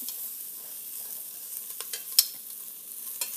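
Chilies roasting in a pan for shredded beef give a faint, airy sizzle close by, with a few soft crackles and one sharper pop partway through.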